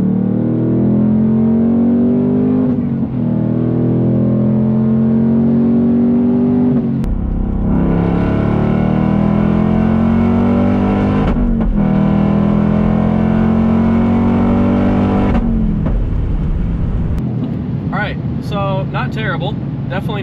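A 2024 Ford Mustang Dark Horse V8 revs hard through a benchmark pull to about 6,000 RPM, loud and close, its rising engine note broken by gear shifts with brief drops before climbing again.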